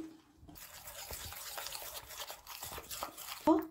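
Kochuri mix and water are stirred together in a bowl, giving a steady wet scraping and swishing close up at low volume, with a brief sharper knock near the end.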